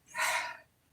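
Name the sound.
nose blowing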